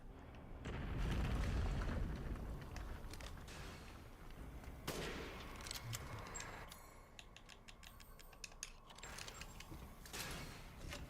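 Gunfire in Resident Evil Village during the Heisenberg fight: a heavy booming shot opens, then a second blast near five seconds, with mechanical clanks, creaks and scattered smaller reports through a busy, dense game soundscape.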